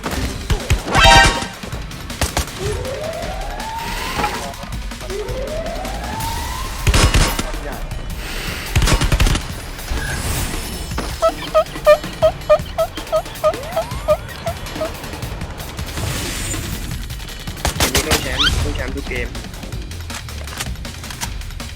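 Gunfire in an online shooter video game, with sharp scattered shots and bursts breaking out at intervals among other game effects while a player talks excitedly throughout.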